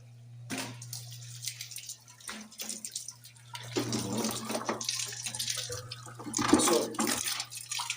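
Spring water pours steadily from a pipe at a gold mine in Bellas Gate, Jamaica, a continuous splashing rush that swells louder in the second half, with a low steady hum beneath and brief voices in between.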